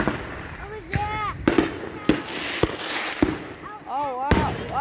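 Fourth of July fireworks burst in repeated sharp booms and crackles at varying distances, some rising whistles between, while spectators exclaim and chatter excitedly throughout.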